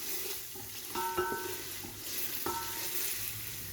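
Garlic and ginger fry in oil for chana pulao, a soft steady sizzle broken by a few light scraping stirs and clinks of a spoon against the pan.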